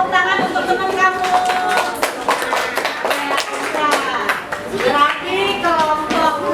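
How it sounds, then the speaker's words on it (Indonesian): A classroom of students claps for a classmate, a busy patter of hands lasting several seconds with chatter and voices mixed in. "Kasih tepuk tangan untuk teman kamu."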